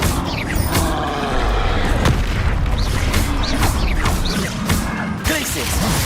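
Confringo spell explosions from the video game Hogwarts Legacy go off as repeated booming blasts and crashes over a dense, continuous game soundscape, with voices present through much of it.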